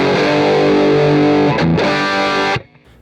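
An Axe-Fx II guitar preset with a TAF Mars 1x12 cab mix produces a loud, distorted sustained chord with a brief dip in the middle, then cuts off sharply.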